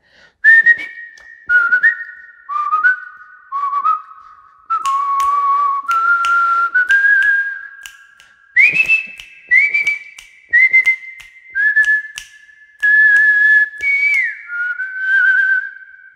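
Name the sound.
whistling of a song's whistle portion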